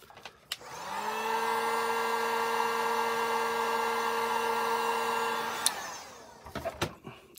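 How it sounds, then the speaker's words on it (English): A heat tool warms the head of a Dungeons and Dragons Presto action figure, giving a steady, close whirring hum that starts suddenly, holds for about five seconds, then cuts off, followed by light handling noises. "we're gonna heat this head up some more"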